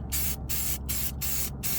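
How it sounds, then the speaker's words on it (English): Short bursts of spray paint hiss from a can onto a test panel for a 1984 Buick Regal AC delete plate, five quick sprays separated by brief pauses, close and steady. "I'm gonna spray right here."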